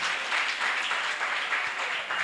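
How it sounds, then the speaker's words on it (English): A crowd at a high school sports and performing arts awards ceremony gives sponsors a round of applause, a dense, steady wash of many hands clapping at moderate volume from start to finish. "I think our sponsors need a louder round of applause."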